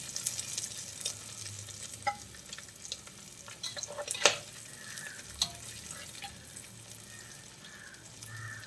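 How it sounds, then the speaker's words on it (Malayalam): Prawns sizzling in hot oil in a pan for pickle, a soft continuous fry with occasional scraping and stirring clicks, close and fairly quiet, with no talk. "ഈ ഒരു പരുവത്തിൽ നമുക്ക് ബാക്കിയുള്ള കൊഞ്ചും കൂടി ഒന്ന് വറുത്തെടുക്കാം."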